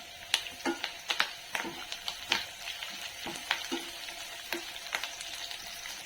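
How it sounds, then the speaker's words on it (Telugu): Green chillies and curry leaves fry in hot oil with a constant crackling sizzle, punctuated by sharp, irregular taps and scrapes of a spatula in the pan. "కరివేపాకు కూడా వేస్తున్నాను. అది కూడా వేయించుకుంటున్నాను"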